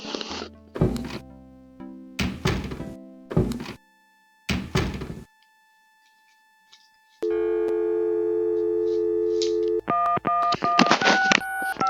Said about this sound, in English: Phone's off the hook, Gabe.